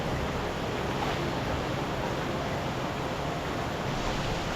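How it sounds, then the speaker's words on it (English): Water at Tukad Cepung waterfall in a Bali canyon cave spills straight off the rock wall, a constant broadband rushing wash that fills the space evenly, steady and moderately loud with no voices. "The water just running straight off the wall"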